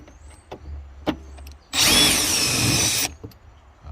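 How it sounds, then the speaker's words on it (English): A power screwdriver whirs loudly in one sustained burst of about a second and a half while backing out bumper screws on a Nissan 350Z, with quieter clicks and handling noises before and after. "let's get the screwdriver. Screw bit."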